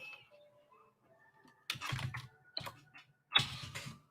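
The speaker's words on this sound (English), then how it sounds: "I know y'all hear me typing." Quiet typing on a computer keyboard comes in three short clusters of close key clatter, separated by near-silent pauses.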